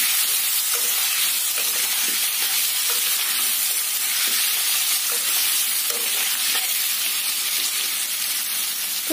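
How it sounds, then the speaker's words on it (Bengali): Potatoes fry steadily in hot fat seasoned with salt and turmeric for alu dom, giving a continuous close sizzle with faint scraping stir sounds throughout and no talking. "তো এটা পুরো একদম লাল লাল করে ভাজা করে নেব।"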